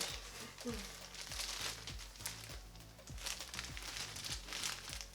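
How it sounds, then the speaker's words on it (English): Crisp crinkling of a plastic package holding fabric, handled up close in bursts over a low rhythmic background hum. "There's a lot of crackling going on."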